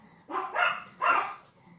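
Two quick, sharp dog barks close by, one right after the other, then quiet.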